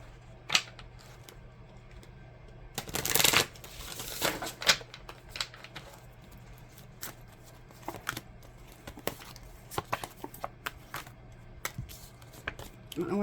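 Someone shuffles a deck of cards in a quiet room: one brief, louder riffle burst, then scattered soft taps and flicks of cards being handled.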